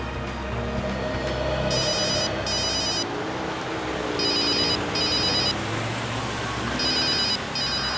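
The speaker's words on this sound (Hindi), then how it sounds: "सर, आपका फोन लग रहा है।" A telephone rings in three pairs of bright electronic trilling bursts, evenly spaced and fairly loud over a low steady background hum, with no talk.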